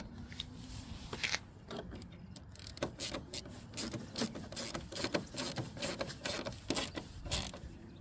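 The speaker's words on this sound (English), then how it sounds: "then we're just gonna drive this bolt in" A ratchet drives in a bolt on the headlight bracket of a 2016 Ford Focus MK3, producing quick runs of light mechanical clicks in uneven bursts, near and fairly quiet.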